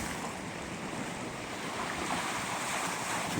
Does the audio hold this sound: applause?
no